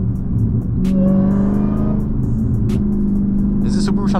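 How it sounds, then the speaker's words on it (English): A Subaru engine revs up and roars past at close range, its rising and falling drone dominating while people talk over it. "Is this Subaru trying to race?"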